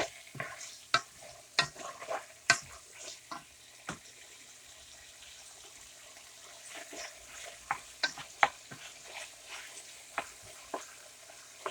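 Chicken stir-frying in a pan with peppers, zucchini, broccoli and red onion, sizzling steadily while a utensil scrapes and stirs in irregular bursts of clatter, close and fairly quiet.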